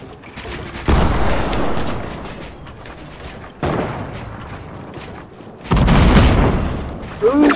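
Gunfire and booming blasts fill a video game match in loud, dense bursts separated by brief quieter gaps, with a faint voice underneath.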